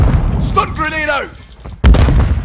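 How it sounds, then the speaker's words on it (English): A stun grenade goes off in Call of Duty: Modern Warfare II, a single sharp, loud bang near the end. Before it comes a shouted voice over gunfire and battle noise. "Stun grenade out!"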